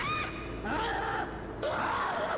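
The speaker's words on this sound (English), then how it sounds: "Whenever I hear screech, those are exploders." Shrill, wavering creature screeches from an exploder enemy in the 2008 video game Dead Space, several rising and falling cries in quick succession over a dense, rumbling game backdrop, loud and close.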